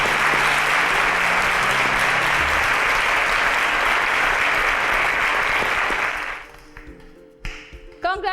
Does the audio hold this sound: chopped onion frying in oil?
no